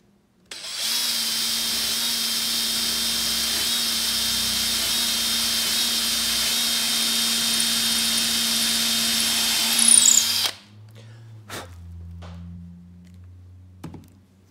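A power drill whines steadily at high speed for about ten seconds, biting into skateboard wood, then stops, followed by a few handling knocks.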